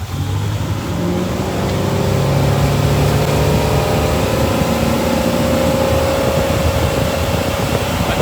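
A boat engine roars loud and close as it accelerates to climb up on plane, its pitch rising steadily under heavy rushing water and wind noise, with no voices.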